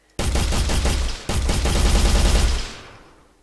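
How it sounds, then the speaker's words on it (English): Loud, rapid automatic AK rifle fire from an Unreal Engine video game, two close bursts of evenly spaced shots with a brief break between, ending in a fading tail. "It's a fully automatic weapon."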